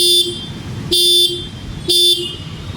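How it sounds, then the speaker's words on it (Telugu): Horn of a 2026 TVS Jupiter 125 disc-brake scooter sounds three short, evenly spaced bright beeps, each about a third of a second, loud and close, with a faint low idle rumble between them. "ఈ స్కూటీ హార్న్ సౌండ్ కూడా ఒకసారి మీరు వినండి"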